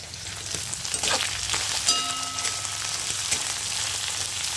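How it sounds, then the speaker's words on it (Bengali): Fish frying in hot oil gives a steady close sizzle with spattering crackles, a few utensil clinks and a short tonal ring partway through, no one speaking. "ভাজা ভাজা হলে তুলে নেব মাছগুলো।"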